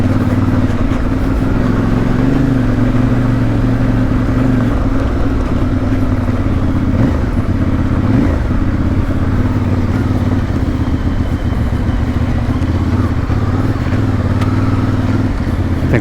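Off-road motorcycle, either a CF Moto 450MT or a Honda CRF 300 Rally, riding through deep dirt ruts with a steady, loud engine drone and low rumble that shifts slightly as the throttle varies, heard close and continuous.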